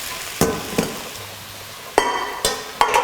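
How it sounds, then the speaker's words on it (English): Noodles tossed into a hot pan and stirred give a few sharp clacks and scrapes against the metal over a low, steady frying hiss. "take those noodles and we're actually just going to pop them into the pan"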